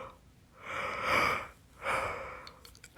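A person yawns twice in succession, two long breathy swells of air close to the microphone with a short pause between them, with no speech.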